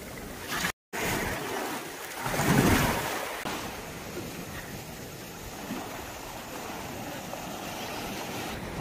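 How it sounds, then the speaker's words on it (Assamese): Big ocean waves break on Kala Pathar beach on Havelock Island: a continuous roaring surf with one heavy breaker swelling loudest early on, then a steady wash and wind, after a brief dropout at the start. "ডাঙৰ ডাঙৰ ঢৌ আহিছে"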